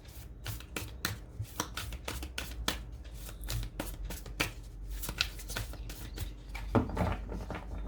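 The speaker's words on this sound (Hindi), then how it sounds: "कार्ड्स को थोड़ा शफल कर लेते हैं" Tarot cards being shuffled up close, a quick, steady run of crisp riffling snaps and soft papery slaps that continues for several seconds without talk.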